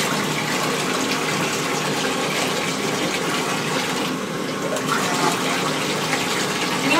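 Water runs steadily from a tap or sprayer while a dog is being bathed, a continuous rushing gush, close and fairly loud with no talking.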